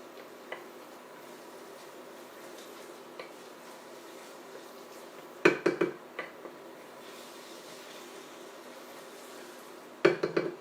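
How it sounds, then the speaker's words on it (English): A pot of keema mutter curry stirred with a spoon, mostly quiet with faint simmering, then two short bursts of clattering spoon-on-pot knocks, close by. "Give it a nice stir."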